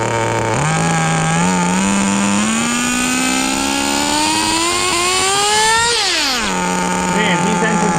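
A Kyosho FW-06 two-speed nitro RC car engine screams close by, its pitch climbing steadily through a long run, jumping at a shift, then dropping sharply as it backs off before settling at a high idle whine.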